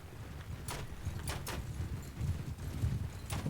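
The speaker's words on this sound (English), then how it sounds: "Plus I can move the horse archers higher up as well." Horse hooves of horse archers moving in a strategy video game, a faint, uneven clip-clop of several steps heard alone under low background rumble.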